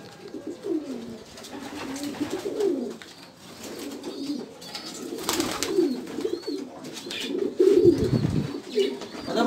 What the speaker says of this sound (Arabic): دابا غادي يهبط الحمام